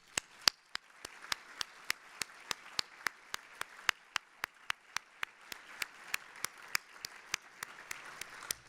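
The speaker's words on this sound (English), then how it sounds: "Please join me in a big round of applause to show our gratitude and our appreciation to Bud" Applause at an Economic Club of Indiana luncheon, with crisp, evenly spaced claps from one nearby pair of hands standing out over a soft, continuous patter of clapping from the room.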